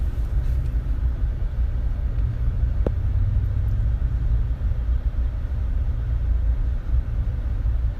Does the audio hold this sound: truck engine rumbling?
yes